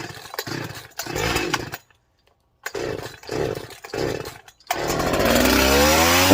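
A modified Husqvarna 359 chainsaw is pulled over with several bursting cranks, then catches and runs steadily with a loud, close, rough two-stroke roar that holds to the end.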